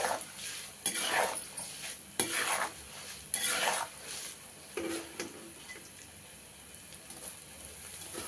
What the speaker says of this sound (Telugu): అందుకు ఇందులోనే వేసి మొత్తం కలుపుకుందామండి.